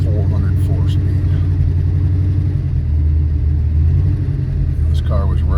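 A black 1979 Pontiac Trans Am Y84 Special Edition with a four-speed runs in a classic car warehouse, its engine holding a steady, loud low rumble throughout with no clear revving, and someone talking over it.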